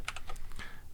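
Rapid keystrokes on a computer keyboard, a quick close run of crisp clicks over about a second.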